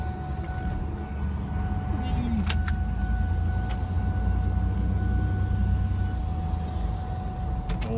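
A Roush car idles after its fuel pressure builds, a low steady engine rumble with a faint hum, close by, with a few sharp clicks and someone talking over it.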